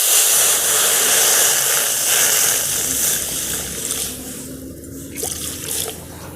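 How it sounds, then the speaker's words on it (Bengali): Water poured into a pan of cut cauliflower pieces in a Bengali home kitchen, a steady broadband rush and trickle that runs continuously and eases off toward the end, with faint clinks. "এবার একটু জল দেব।"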